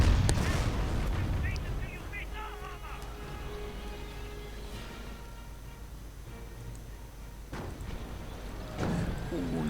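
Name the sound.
artillery strikes exploding in a World War II strategy video game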